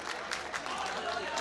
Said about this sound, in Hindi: तालियां पीछे तक जरा जोरदार बजाकर बताइए आप।